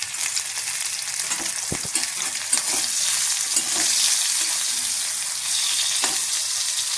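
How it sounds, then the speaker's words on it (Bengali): Bitter gourd slices frying in about a spoon and a half of mustard oil, a steady close sizzle with a few sharp utensil clicks and taps, no voices. "আমি এখন উচ্ছেটা ভাজবো, করলাটা ভাজতে একটু তেল লাগে"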